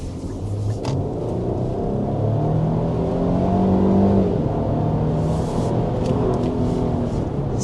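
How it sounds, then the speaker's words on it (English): A 2026 Nissan Armada SUV pulls away under hard acceleration, heard from inside as a steady low engine rumble and road roar that swells and holds, with no talking. "let's go ahead and start with a hard acceleration so you can see what that is like"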